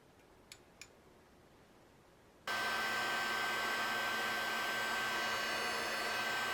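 Electric heat tool switches on after a quiet moment and a couple of small clicks, then blows a loud, steady whirring roar close by while heat embossing a card stamped in VersaMark ink.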